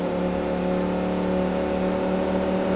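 A Bugatti La Voiture supercar in Farming Simulator 19 accelerates hard, its steady loud engine drone holding a dense harmonic whine throughout, close and alone with no talk.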